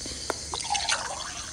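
Watery drips and a light trickle as a character drinks water in the Toca Life World video game, a soft liquid sound with a couple of small plinks over faint game background noise.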